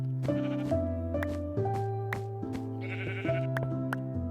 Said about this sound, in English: Another pink sheep.